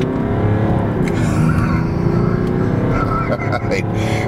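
A 2005 Mercedes-Benz E320 CDI turbo diesel pulling hard under acceleration, heard from inside the cabin as a loud, steady engine drone with rising tone, while someone talks over it.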